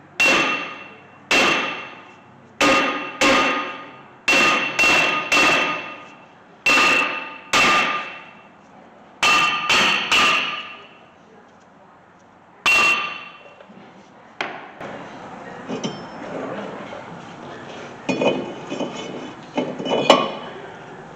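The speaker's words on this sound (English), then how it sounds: "Now that that's done, we can beat the rotor off." Metal hammer blows beating a brake rotor off the front hub of a 2008 Toyota Corolla: about a dozen loud, ringing clangs at irregular intervals, followed by quieter scraping and rattling of metal parts.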